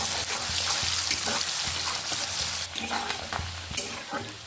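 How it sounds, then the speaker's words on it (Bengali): Onion fries in the oil left over from frying bhetki fish, with a continuous loud sizzle broken by repeated scraping stirs in the pan. "ওই তেলে আমি পেঁয়াজ দিয়ে দিলাম।"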